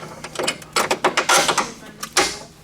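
Bolts being run in while a lift bracket is mounted on a Polaris Ranger side-by-side in a shop, a rapid series of close, sharp mechanical ratcheting clicks in short bursts.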